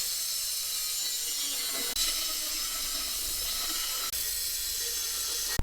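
Metal being cut for an RC crawler cradle, a steady rasping, hissing cut that runs continuously and close, with two brief sharp clicks along the way and no talking.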